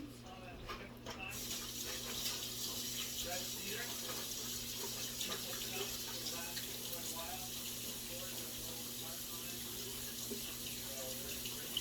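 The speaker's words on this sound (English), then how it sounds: "Let me wash my hands." Kitchen tap running while hands are washed, a steady splashing stream into a sink with a constant low hum beneath, moderately faint and continuous.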